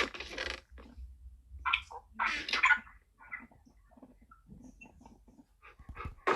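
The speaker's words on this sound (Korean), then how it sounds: "야 세혁아 네 강아지 좀 대피시켜" A puppy makes soft yelps and whimpers amid a survival game session with friends, short uneven bursts that come and go, fairly close, with small clicks and faint chirps between them.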